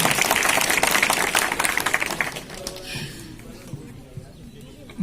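Loud applause from an audience welcomes an Urdu teacher at a school science quiz prize ceremony. Dense clapping holds for about two and a half seconds before thinning and dying away into room murmur.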